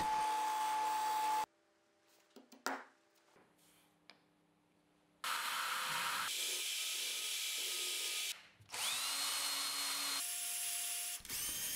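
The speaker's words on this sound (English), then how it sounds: "I finish machining it on the bandsaw" Bandsaw cutting a piece of ash wood in a workshop, a loud continuous machine whine broken by a quieter gap of a few seconds, then resuming close up.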